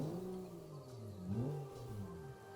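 Simulated car engine idling from inside the cabin in the Automation video game, a steady low drone with gentle pitch wavering and a brief rev swell midway, moderately quiet and alone.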